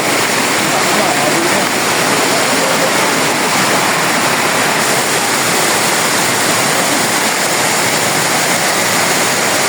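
Waterfall at Mother's Falls in Maria Aurora, a loud, constant broadband rush of falling water that fills the whole clip close up, with no breaks.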